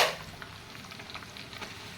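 Homemade hair oil with curry leaves simmers in a pan, giving a soft, steady bubbling sizzle with light crackles, opening with a brief brighter burst before settling into a quiet, even fry.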